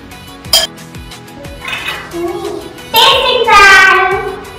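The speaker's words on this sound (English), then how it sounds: "Now we will mix it with the spoons." Spoons scraping and clinking against a bowl while corn chaat is mixed with lemon juice, a few close metallic taps followed by louder stirring scrapes; a voice briefly heard.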